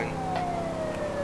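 Police siren from a police driving video game, a loud continuous wail sliding slowly downward in pitch over an engine drone.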